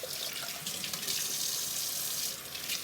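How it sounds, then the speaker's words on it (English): Plain tap water runs steadily into a sink while a face is washed, a continuous bright splashing hiss with slight fluctuations, close and without talk. "Now I'm just washing it with my plain water."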